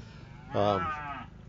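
An American Milking Devon cow lets out a single loud, close moo lasting under a second, with a deep tonal voice that fades into a lighter tail.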